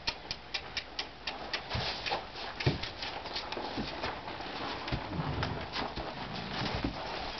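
A mare's hooves clop on hard ground in an uneven stepping rhythm, close and fairly quiet, with scattered knocks and faint background noise and no talk over them.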